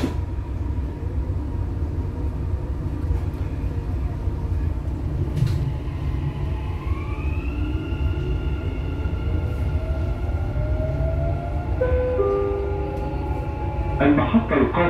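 A Dubai Metro Red Line train shuts its doors and pulls away. A steady rumbling cabin drone carries a rising electric motor whine as it accelerates, and warning tones sound near the end, with an announcement voice over it.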